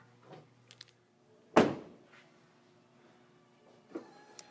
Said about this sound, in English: we're going to reinstall the motor now and test